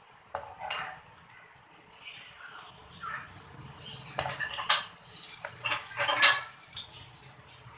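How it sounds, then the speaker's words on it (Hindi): A spoon stirs dahi phulkiyan frying in a pan, with scraping and clinking against the pan and a soft sizzle beneath, growing busier and louder toward the end, with no voices. "अब हम चमचा चलाते रहेंगे ताकि हमारी फुल्कियाँ चारों तरफ से ब्राउन हो जाए।"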